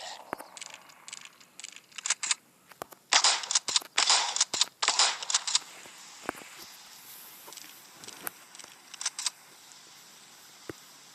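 Gunfire in the zombie survival game Zombie Forest 3: sharp, bright reports come singly and in quick bursts, loud and close, with quieter clicks and gaps between them.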